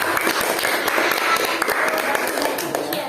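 Students in a classroom clapping for their presentation groups, a dense, continuous patter of hands across the whole short stretch, fairly close and loud.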